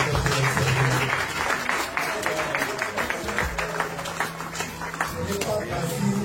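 Applause at a lively birthday party evening in Cameroon, steady clapping from a crowd filling the room with music-like tones and voices mixed in beneath.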